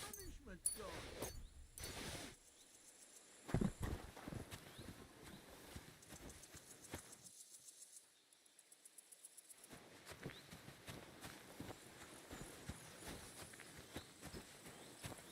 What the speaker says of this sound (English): We borrow this horse.